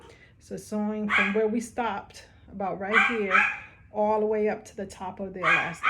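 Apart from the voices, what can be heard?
dog barking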